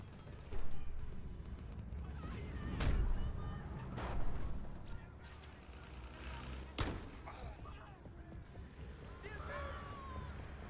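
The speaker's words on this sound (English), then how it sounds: "You can literally still hear the explosions going off" Explosions in the video game Crackdown go off as a few scattered, dull booms and thuds at irregular intervals amid quieter rumbling game noise, moderately distant rather than close.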